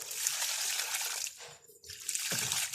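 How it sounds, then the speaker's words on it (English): Water is poured over a potted philodendron tricolor in a close, steady hiss that briefly stops and then resumes with splashing. "Now let's add water."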